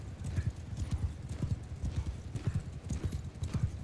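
Horse hooves gallop in a fast, steady clip-clop rhythm in Mount & Blade II Bannerlord, loud and continuous, with occasional whinnies over the pounding.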